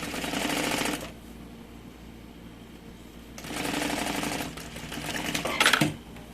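Household sewing machine fitted with a zipper foot, stitching a zipper and lining onto a large changing bag; two close, loud bursts of rapid mechanical stitching separated by a short pause.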